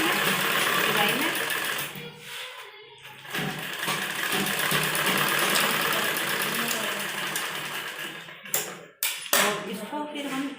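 A sewing machine stitching a seam on a blouse runs in continuous close whirring bursts, with brief pauses and stops near the end.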